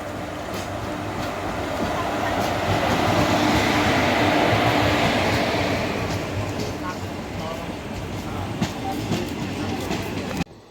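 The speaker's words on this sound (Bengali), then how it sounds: "ফাইনালি দেখতেই পাচ্ছ ট্রেন ঢুকেই গেছে" A train rolls into a station platform with a heavy rumble and rhythmic clatter of wheels, swelling louder then easing off, with occasional squeals and clanks.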